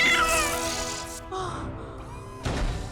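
A cat meows loudly in a Doctor Who episode, a long drawn-out wavering cry followed by shorter meows and a thump, close and clear over faint background sound.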